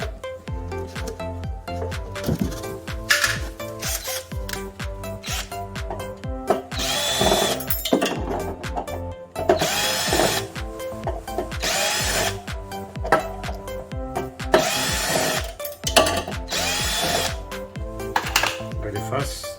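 A power drill whirs in repeated bursts of a few seconds each while working on a bicycle front dropout, with clanking and handling noises between them.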